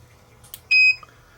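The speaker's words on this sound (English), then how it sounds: "This has got a non-contact voltage detector in it as well, so if I turn it on, this should detect." A KAiWEETS KT301 circuit breaker finder's non-contact voltage detector gives a short, clear electronic beep after a faint click, alone in a quiet room with a low hum underneath.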